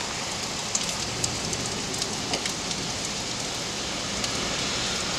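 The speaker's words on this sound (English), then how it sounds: "it's raining really hard" Heavy rain pours steadily during a tropical lightning storm in London, a loud continuous hiss of drops hitting surfaces outside a front room, with a few sharper splashes and no voices.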